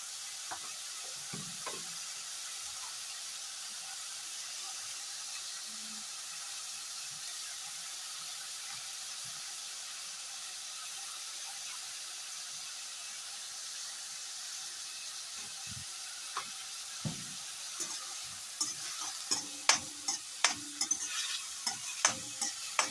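Salt and turmeric fry with spices in a pan, giving a soft, steady sizzle and hiss for a long stretch, joined near the end by louder scraping and knocking as the mixture is stirred.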